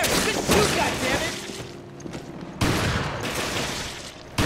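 Gunfire from the Resident Evil: Revelations video game, a burst of rapid shots near the start and another loud volley partway through, mixed with game effects and some talk.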